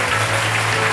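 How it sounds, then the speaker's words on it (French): A congregation applauds during a French-language church service, giving a dense, steady wash of clapping that holds for a brief stretch without pause. "Applaudissons très fort pour lui."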